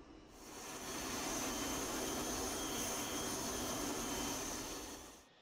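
A Mirage F1 jet takes off in the DCS World flight simulator, its engine roar swelling within the first second, holding as a broad steady rush with hiss, then falling away near the end.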